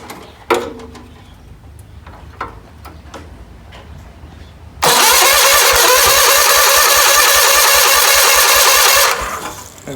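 A John Deere 317 tractor engine cranks on starting fluid, a few sharp ticks and clunks giving way to a loud, steady cranking roar that runs for several seconds, close by, and then cuts off.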